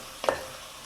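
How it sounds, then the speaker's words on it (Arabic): A single quick stir as flour is mixed into a sauce base for a cheese tajine, a brief soft scrape and slosh that then fades into quiet room noise. "نخلطها مليح مع لو ميلونج هكذا"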